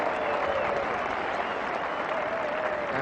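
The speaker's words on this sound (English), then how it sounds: "A cheer. England get a single." Crowd at the 1989 England vs Australia fourth Test cricket match cheers and applauds an England single, a dense, steady roar of clapping and cheering that holds for a few seconds.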